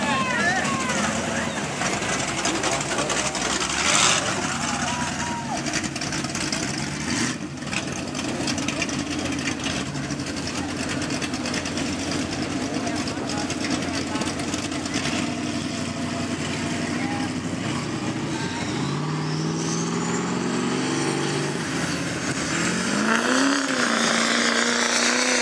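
Diesel pulling trucks rev and idle at a fairground dirt drag, a continuous rough engine roar at moderate distance with a rising pitch sweep near the end, while people talk over it.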